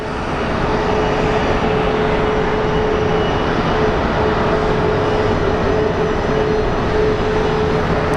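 An American Airlines airliner arrives at Phoenix Sky Harbor from Palm Springs, its engines a loud, steady broadband roar with a faint whine, sustained without break for the whole stretch.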